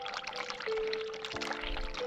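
In The Cat Lady, water runs and pours steadily from a tap, a close, continuous rushing stream with a low hum beneath it and no voices.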